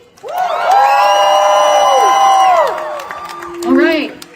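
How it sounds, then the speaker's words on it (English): A crowd at a #StandWithPalestine rally in St. Paul, Minnesota, lets out a long, loud cheer, with drawn-out voiced shouts and whoops rising and falling over a few seconds before a second shorter call. "let's give it one more round of applause for Haneen"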